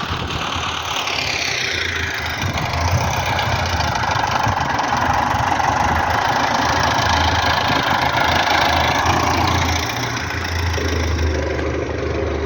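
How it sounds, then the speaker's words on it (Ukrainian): A tractor hauling a mounted three-metre ORIGIN SEED seeder with variable drive across a field while sowing soybeans, its engine droning loud and steady from start to finish, with broadband mechanical noise and no voices. "Така наша сівалочка, шановні аграрії, навісна, трьохметрова, варіаторна."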